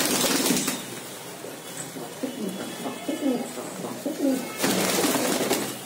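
Pigeons being sold in Punjab coo in soft repeated rolling calls at close range, with faint background clatter and no talk.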